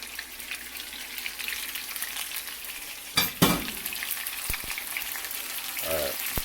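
A skin-side-down fish fillet sizzles in a hot pan after a lemon juice and seasoning mixture is poured over it, giving a steady close frying hiss with a couple of brief louder crackles and spatters.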